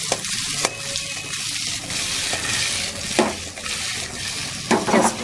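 Paneer and potato curry being stirred in a frying pan, a steady close sizzle broken by a few scraping strokes of the spoon, no voices.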